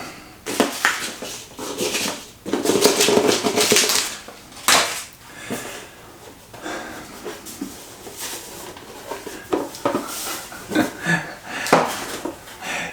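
A metal Detroit-style pizza pan is handled during unboxing, producing intermittent clanks, scrapes and rustling packaging sounds close up, with irregular bursts and pauses.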